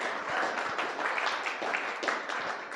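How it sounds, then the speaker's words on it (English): An audience at a design and tech talk applauds, dense continuous clapping that holds at a steady level for a few seconds. "I want to give her a round of applause"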